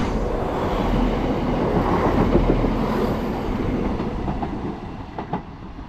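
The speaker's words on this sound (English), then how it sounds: "we've got a train passing, which I believe is a 170, or is it a 158? It's a 170." A Class 170 diesel train passes through a station with a loud, steady rumble of rolling wheels and rail noise that fades slightly toward the end, with a few sharp clicks over the joints.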